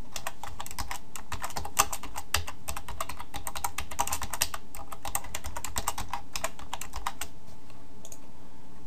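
Rapid PHP code typing on a computer keyboard, a steady stream of close, crisp key clicks with small pauses and no talking, ending in a quieter stretch with a faint hum.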